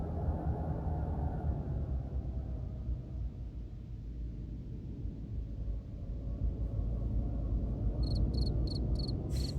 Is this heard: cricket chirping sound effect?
yes